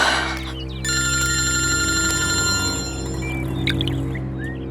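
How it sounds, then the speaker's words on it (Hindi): A telephone ringing unanswered, a steady electronic ring tone sounding continuously and fairly loud over a low background hum, with no one picking up. "ये फोन क्यों नहीं उठा रही है?"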